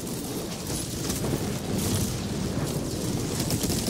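Explosions in the video game Helldivers 2 roar without a break, a dense, loud rumble of blasts and booms layered over one another for the whole stretch, with no voices.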